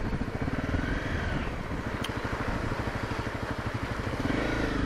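A motorcycle engine running steadily as the rider works through an obstacle on a trail, a loud close rumble with throttle changes throughout.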